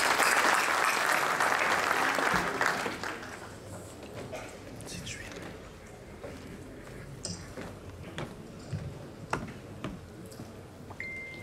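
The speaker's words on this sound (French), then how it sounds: "Monsieur Badr Tahiri, sous vos applaudissements, mesdames et messieurs." Audience applause at a business conference in the Fès-Meknès region, loud and dense for the first few seconds, then thinning to scattered claps and room noise.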